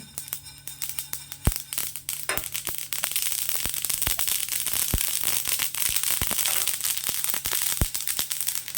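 Sesame seeds crackle and pop while dry roasting in a pan, with many sharp, irregular snaps over a steady sizzling hiss, close and fairly loud throughout.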